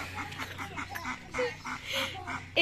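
A duck at a Mexican ranch gives a run of rhythmic quacks, about a dozen nasal calls in a steady pulse, fairly close and moderately quiet, with faint background noise around it.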